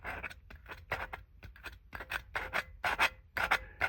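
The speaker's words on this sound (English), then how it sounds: "I'm gonna be quiet so you can hear the rubbing" A bad voice coil rubs and scrapes inside a Mark Levinson LS430 subwoofer under repair, giving a faint, crunchy, rhythmic rasping in short repeated strokes with no talk over it.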